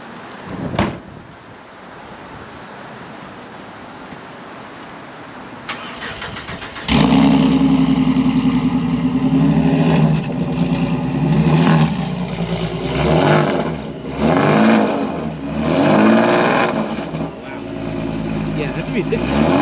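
Procharged V6 in a 2010 Chevrolet Camaro RS starting up abruptly after a quiet windy stretch, then revving repeatedly in rising and falling surges, loud and close, with people talking over it.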